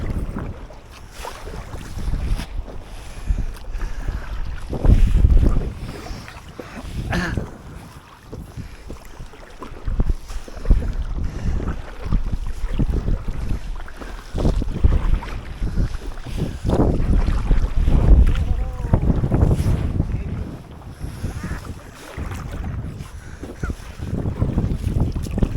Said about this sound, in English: It's only that wind, lad.